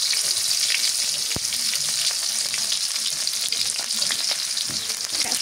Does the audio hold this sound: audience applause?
no